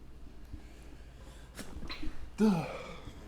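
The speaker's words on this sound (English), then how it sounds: "now I'm just sneezing up a storm" A single sharp sneeze bursts out after a few soft sniffs and breaths, close and fairly loud against a quiet room.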